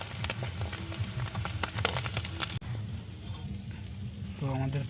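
Parshe fish sizzle in a pan of hot oil outdoors near the Sundarbans forest, a close crackling fry with sharp pops and spits that settles into a softer hiss, with a brief voice near the end.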